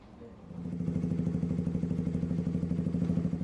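Motorcycle with a loud aftermarket exhaust, among bikes seized by police in Sukabumi: a close engine idles with a rapid, even, throbbing pulse that rises in level and holds steady for a few seconds.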